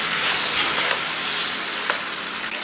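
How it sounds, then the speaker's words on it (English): Garlic sizzles hard in hot oil in a pan for a gongura chicken dish, a loud, steady crackling hiss with a few brief louder pops, no voices. "And now you can add handful of garlic."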